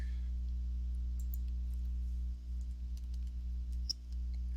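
Scattered keystrokes on a computer keyboard, a few light clicks and taps over a steady low electrical hum, faint and close, with no talking.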